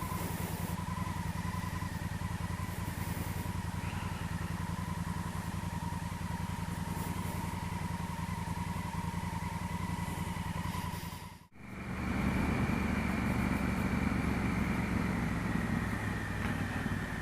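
Honda Africa Twin motorcycle being ridden on island roads just after its 16,000-mile service, its engine droning steadily with wind noise, then a brief dip before the engine note returns stronger.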